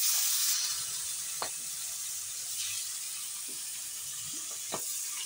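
Pieces of a large fish head sizzling in hot oil in a home kitchen, a soft, steady frying hiss with a few faint clinks and pops, fairly quiet throughout.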